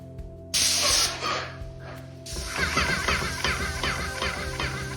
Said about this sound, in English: low pressure spraying with the Graco LP619